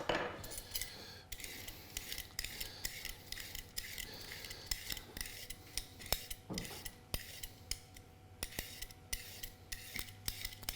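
Carrots being topped, tailed and peeled by hand in a home kitchen, giving a steady run of small scraping and clicking strokes against a cutting board with occasional louder knocks, close and alone without talk.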